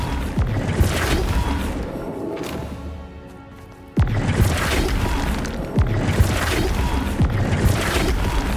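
Flipendo spell impacts in the game Hogwarts Legacy during a goblin battle, several sharp thudding crashes and whacks over a busy combat din, with a brief lull before a sudden loud hit.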